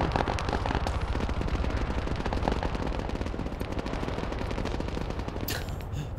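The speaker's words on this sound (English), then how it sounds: "These guys are shooting me from everywhere." Dense, continuous automatic gunfire and scattered shots fill a King of the Hill battle in the military shooter ArmA 3 set in Takistan, loud throughout with rapid overlapping bursts and a brighter crack near the end.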